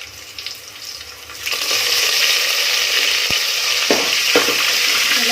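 Onion, garlic and curry leaves fry in hot oil for a radish sambar tempering, a quiet start giving way to a loud, steady sizzle, with a few sharp spoon scrapes against the pan as it is stirred.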